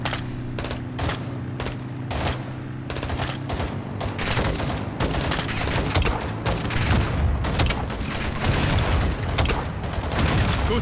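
Rapid bursts of automatic gunfire mixed with heavy launcher blasts ring out in a Call of Duty: Modern Warfare II firefight, loud, near and repeating in clusters over a low rumbling background.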